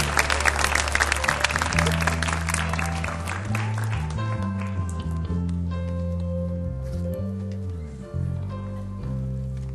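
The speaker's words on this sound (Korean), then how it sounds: "네, 다시 한번 큰 박수 부탁드리겠습니다." Church youth worship congregation claps loudly at first, the applause thinning and fading over several seconds as sustained keyboard chords play on beneath and continue alone.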